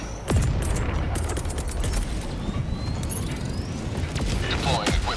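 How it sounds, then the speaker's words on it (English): A support weapon equipment package deploys in Helldivers 2 with loud mechanical clanks, ratcheting and a low rumbling boom, steady and close, alongside scattered metallic hits and faint gunfire-like bursts. "Deploying equipment package."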